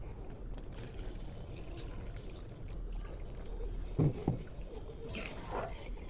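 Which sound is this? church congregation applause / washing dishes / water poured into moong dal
water poured into moong dal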